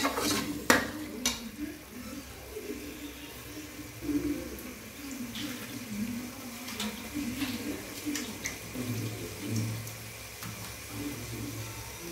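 Chicken goes into a pan of frying ginger, garlic, mint and tomato for chicken biryani, giving soft sizzling with intermittent stirring scrapes and clinks, fairly quiet and close.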